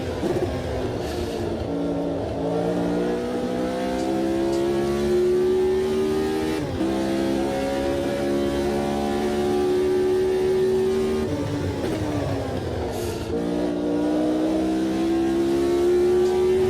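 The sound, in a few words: Lotus 72E race car engine at Spa-Francorchamps, from the Automobilista 2 video game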